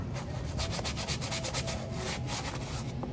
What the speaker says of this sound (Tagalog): Pero dahan-dahan lang sa pagkuskus guys, para di masira guys